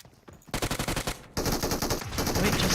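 MG3 machine gun fire in PUBG Mobile rattles out in two sustained rapid bursts, the first a quick rhythmic stutter and the second a denser, louder continuous stream, close and dominant with no voices.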